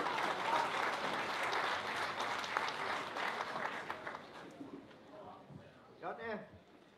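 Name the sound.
audience applause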